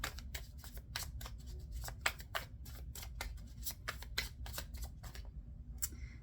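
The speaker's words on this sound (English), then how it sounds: "let's pull 3 cards for any blockages in this connection." Tarot cards are shuffled and pulled from the deck, giving a rapid run of crisp flicking riffles and slaps close up, with a brief pause near the end before a final snap, no voices.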